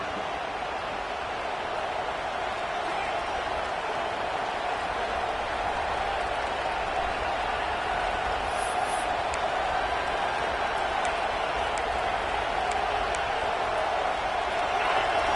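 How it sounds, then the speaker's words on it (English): A large stadium crowd roars in a steady, continuous wash of noise, with no distinct voices standing out, at an Ohio State versus Texas college football game. "listen to this crowd noise. This stadium is vibrating."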